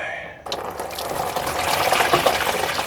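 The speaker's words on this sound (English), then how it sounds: "So that's all draining out nicely now." Warm coolant drains from a radiator hose on a Mazda MX-5, a steady broadband splashing gush that starts abruptly and runs continuously, close and fairly loud, with no talk over it.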